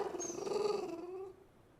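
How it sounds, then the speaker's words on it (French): A dog gives a short, close growl that slides into a whimpering whine and fades out in under two seconds. It comes from a French-language family film about dogs. "C'est notre chien, Toby."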